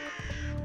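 A crow gives one harsh, drawn-out caw, loud and close.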